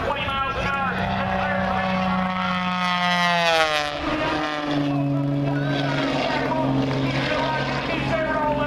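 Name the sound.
air show plane flying low under ribbon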